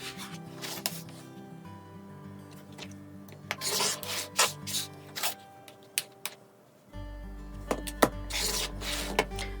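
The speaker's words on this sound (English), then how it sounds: "cut these 2 bigger background squares in" Fabric squares being cut diagonally with scissors for a quilt block, heard as repeated close rasping and rubbing strokes with a few sharper snips, quiet and without talk.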